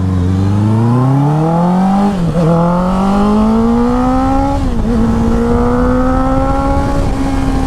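A 2022 Honda CBR 650R BS6 motorcycle accelerates hard in third gear, its engine note climbing steadily in pitch through a gearshift dip, loud and close throughout with no talking.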